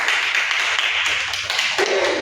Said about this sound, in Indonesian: Tepuk tangan Cindy.